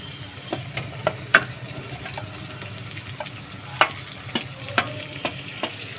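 Green chilies, onion and yardlong beans sizzle softly in a pan with boiled potatoes, Chinese-style, under steady stirring, with a spatula clicking and scraping against the pan at irregular intervals.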